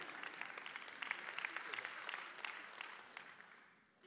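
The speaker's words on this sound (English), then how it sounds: "I know you're clapping right now at Abbeville" Church audience clapping at a sermon gathering in Abbeville, a dense wash of many hands at moderate distance, steady through most of the clip before tapering off near the end.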